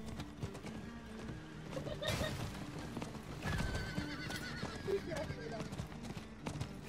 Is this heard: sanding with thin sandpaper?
no